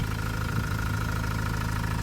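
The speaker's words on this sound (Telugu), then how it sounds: "ఇంజన్ సౌండ్ మాత్రం ఇట్లా ఉంది" A 2016 Mahindra XUV500 W10 diesel engine idling steadily, a close, continuous low rumble with an even mechanical clatter and no talk.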